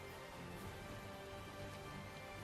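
Steady, dense rain hiss from a downpour in the video game Tales of Zestiria, continuous and even throughout with no talking.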